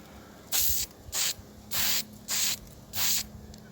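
Spray gun laying down a light first coat of red oxide primer during cosmetic bodywork repair, five short hissing bursts in a steady rhythm with brief silent pauses between, close and fairly loud.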